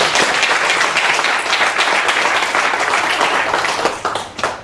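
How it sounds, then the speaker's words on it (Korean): Church congregation at a Friday prayer meeting breaking into loud, sustained applause, a dense wash of many hands clapping that tapers near the end. "박수 한번 쳐야 되는 거 아니에요?"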